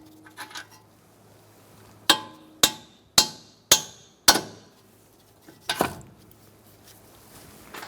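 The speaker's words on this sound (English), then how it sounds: "So I've got both mine free, and now I'm just going to tap them out." Five crisp metallic hammer taps ring out close by as strut bolts are knocked loose on a Buick Encore, evenly spaced, followed by a couple of softer knocks.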